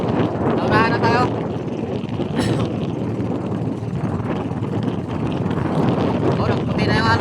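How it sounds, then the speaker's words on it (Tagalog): Strong wind buffets the microphone at sea aboard a boat, a steady loud broadband rush and rumble running throughout while people talk over it. "Sobrang lakas ng hangin."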